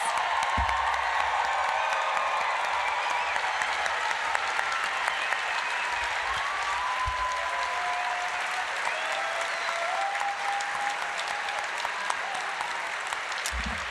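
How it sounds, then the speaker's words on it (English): A large crowd applauds steadily and loudly throughout for a medical school class at a white coat ceremony, with a few scattered whoops rising over the dense clapping. "Let's give our class of 2028 a great big round of applause."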